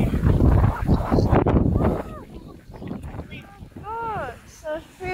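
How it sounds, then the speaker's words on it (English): Strong typhoon wind at a seaside spot with growing waves roars and buffets loudly in heavy gusts, then eases off as faint voices and other small sounds come through. "It's very windy."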